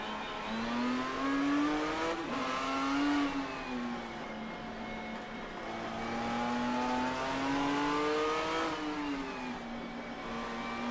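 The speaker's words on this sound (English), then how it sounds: "switching to Carl Struhl's onboard in the number 97 Ford Mondeo" Number 97 Ford Mondeo touring car engine heard onboard in a racing game at Okayama, droning steadily and rising and falling in pitch as it revs through the gears, close and fairly quiet.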